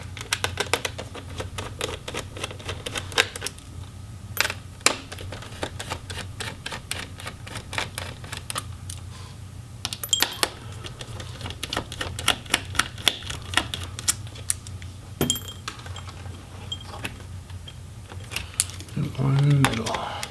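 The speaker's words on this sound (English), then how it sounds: "I'm just going to remove the screws" Screws are removed from the bottom case of an Alienware 17 R5 laptop, heard as close, sharp mechanical clicks and ticks scattered irregularly over a quiet background, with some voice present.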